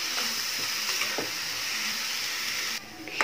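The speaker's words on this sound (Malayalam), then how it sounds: "ഇനി ഇതെല്ലാം കൂടെ നന്നായിട്ടൊന്ന് വഴറ്റിയെടുക്കണം" Vegetables sauté in a pan with a steady frying sizzle and a few utensil scrapes, then the hiss drops away abruptly near the end, leaving a quieter moment and a final clink.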